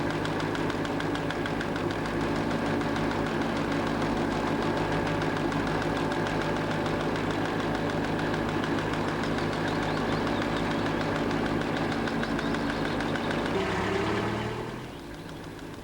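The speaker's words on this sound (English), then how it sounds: "Then Stan and Steve watched as Paul started the weed-cutting boat's engine, lowered the cutters, and began to cut the weed." A weed-cutting boat's engine runs at a steady idle, a loud, even mechanical drone with a low throb that holds for most of the stretch before dropping away sharply near the end.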